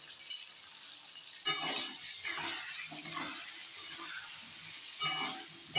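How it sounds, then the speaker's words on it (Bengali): Pieces of pointed gourd (potol) fry in hot oil with salt and turmeric, giving a soft, close sizzle broken by a few scraping stirs and clinks of a utensil against the pan. "আমি পটলগুলোকে আমি লাল করে ভেজে নেবো"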